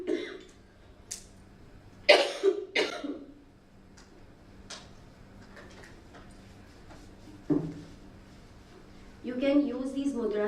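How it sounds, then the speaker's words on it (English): A few sharp coughs and throat clearing stand out against quiet room tone, with a burst of muffled talk near the end. "I'm sorry with this cough."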